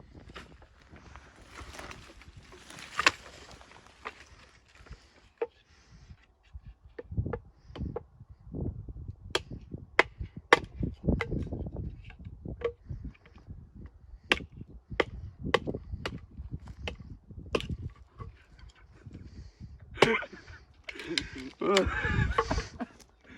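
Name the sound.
splitting wood into kindling for a stove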